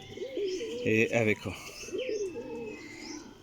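Salara pigeons coo in a few soft, rolling phrases, with a brief louder burst in the middle and someone speaking briefly close by.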